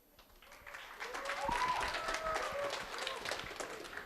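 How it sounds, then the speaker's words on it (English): Audience applause for contestants at a pageant during a Knanaya convention, building to a steady mass of clapping from a crowd, with a voice and a few tonal sounds over it. "Ladies and gentlemen, another big round of applause"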